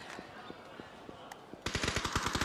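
Gunfire in the video game PUBG during a PCL competitive match: scattered single shots, then a rapid automatic burst of about a dozen rounds, moderately loud under faint background noise.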